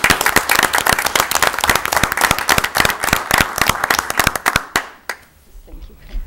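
Applause at a village board of trustees meeting, a room full of people clapping densely and steadily for about five seconds before it stops abruptly, leaving quiet room noise.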